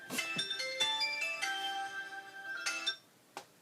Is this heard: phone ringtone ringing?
yes